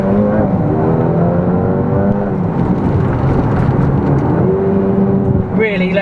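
A Mercedes-AMG A35 hot hatch with an automatic gearbox downshifts, its engine droning steadily and changing pitch, close and loud, while someone talks over it throughout and a brief crackle comes near the end.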